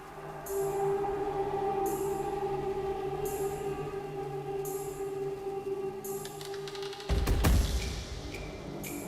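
A tech step drum and bass track with a sustained droning bass, repeating hi-hat bursts, and a heavy drop of low-end and drums near the end.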